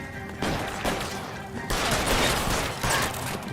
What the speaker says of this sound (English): Just shot him right in the face.